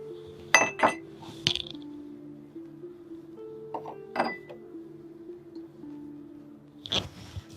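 Herbal powders going into a bowl come with sharp metallic clinks and taps of a spoon against the dish, a few scattered strikes over a steady low hum, fairly quiet and close.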